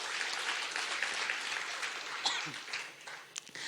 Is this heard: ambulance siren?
no